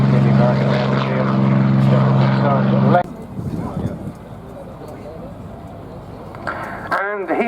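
Spitfire PR-11 propeller aircraft passing at the Duxford summer airshow, its loud engine drone holding steady for three seconds before dropping abruptly to a distant, rough rumble amid crowd noise and talk.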